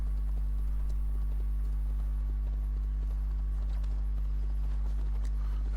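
A lynx mount in Assassin's Creed Valhalla walks along with footfalls that sound like horse hooves, a soft, regular clip-clop over a constant low hum, with no speech.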